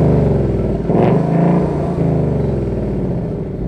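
A 2018 Ford Mustang GT Premium with the optional active exhaust set to sport mode burbles loudly and close. It surges in two throttle blips before settling into a rumbling idle.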